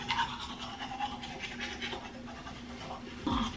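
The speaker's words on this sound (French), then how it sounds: "Je vais me brosser les dents." A toothbrush scrubs teeth close to the microphone with a soft, continuous scratchy bristle sound, ending in a slightly louder wet stroke.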